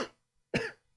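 A couple of short, close coughs from one person, the first fading quickly and the second sharper, separated by a moment of silence.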